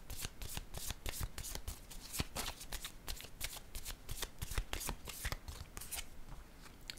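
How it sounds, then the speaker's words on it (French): Tarot cards are shuffled and laid down, making a quick run of crisp riffling snaps and soft slaps, close and fairly quiet, with no talk. "Je vais déposer une carte."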